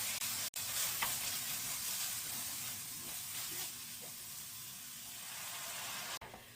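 Braised pollock seasoning sauce loosened with broth in a pan: a steady close sizzle with a hiss of steam under continuous stirring, one sharp knock near the start and another near the end, no voices.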